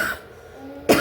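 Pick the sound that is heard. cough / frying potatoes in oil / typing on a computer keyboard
cough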